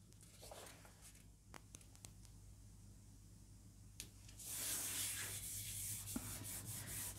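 A wax rubbing is pressed wax side down onto a gel print and rubbed by hand, giving a soft, close scratchy friction that grows louder and steadier partway through, with no talk.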